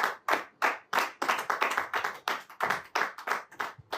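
A congregation claps together in a steady, rhythmic beat to acclaim the Lord during a church intercession service, the sharp hand claps repeating quickly and close, with no voices over them.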